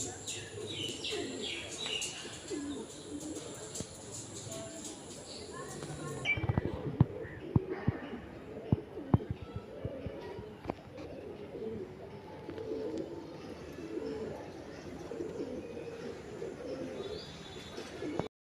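Soft, low coos from young Baba Dhanne Wali breed pigeons at a pigeon farm repeat throughout, mixed with light rustling and faint chirps nearby.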